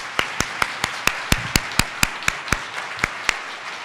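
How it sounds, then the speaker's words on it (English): Rhythmic, evenly spaced claps at an awards ceremony for computing honorees, a steady beat of distinct sharp claps over a soft background of scattered clapping. "so let's give her a round of applause."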